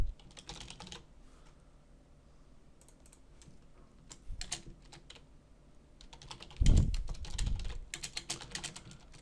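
Someone types C# socket code on a computer keyboard, quiet irregular key clicks that build into a louder flurry near the end, with no voices.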